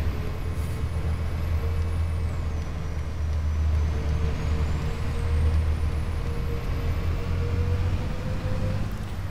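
A simulated Volvo bus in OMSI 2 idles with a deep steady engine drone and a sustained hiss of air brakes, loud and constant from inside the vehicle, with no talking.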